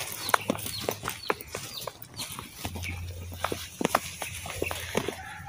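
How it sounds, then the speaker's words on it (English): A hen with her baby chicks clucks on a walk in Mulig, Toril, Davao City, sharp repeated clucks and peeps scattered throughout at close range, with a low steady hum underneath. "Ay, may chicken. May mga baby chicks na siya"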